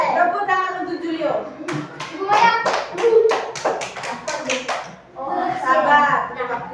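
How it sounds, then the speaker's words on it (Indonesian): Children in a classroom clap together in a dense burst of sharp claps, with children's voices and a teacher's speech heard before and after. "Tepuk tangan untuk Julio."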